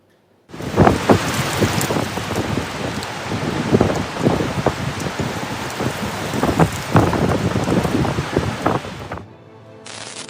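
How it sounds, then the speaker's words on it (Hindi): Torrential rain pours down in Mumbai, a dense, loud, continuous roar of heavy rainfall that starts abruptly and cuts off near the end, with no voices. "मुंबई में मूसलाधार बारिश ने जमकर कहर बरपाया।"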